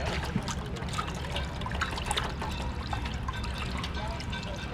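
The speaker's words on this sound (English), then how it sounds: "I take a dirty article of clothing and I rinse it" A dirty article of clothing rinsed by hand in water, with a steady trickling, splashing wash of liquid and small drips, heard up close and fairly soft.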